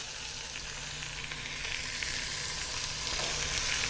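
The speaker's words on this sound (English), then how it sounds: "It's searing up very nicely." Steady, faint hiss of a roast searing in a hot pan, a continuous sizzle with slight crackles throughout, no talking.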